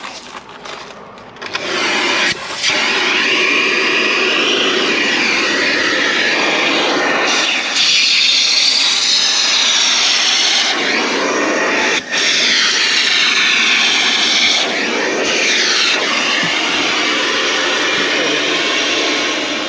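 An Amazon Basics vacuum cleaner draws dirt from a car interior, a loud continuous whine and rush that runs almost the full length, with its pitch shifting and a few brief dips as the nozzle moves.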